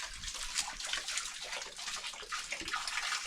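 Cold water flowing on a steep mountain trail on Mt. Tenglawan in Sinacbat, Bakun, Benguet, Philippines, a continuous nearby splashing rush with no voices.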